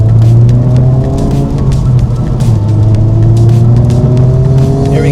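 2025 Honda Civic Type-R driven fast over small puddles on a wet road, a loud, steady engine drone with shifting pitch heard close up, with bursts of water spray and no voices.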